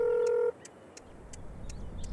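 A phone dialing 112 in the First Responder Simulator video game: a single sustained dial tone that cuts off, followed by faint, evenly spaced short beeps over low background rumble.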